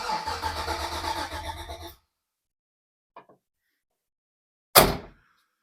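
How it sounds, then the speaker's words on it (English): An LS-swapped Ford Bronco II with a Holley Terminator engine management setup cranks for about two seconds, then after silence gives a faint blip and one loud short burst, close by and alone. "So what we finally have is a vehicle that now cranks on its own."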